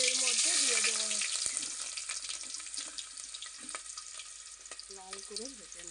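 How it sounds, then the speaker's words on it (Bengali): Chopped onions frying in hot oil in a pan for biryani, a steady close sizzle with bursts of crackle that fades slightly, while a voice speaks briefly at the start and end. "পেঁয়াজটা এবার তেলের মধ্যে দিয়ে দেওয়া হচ্ছে।"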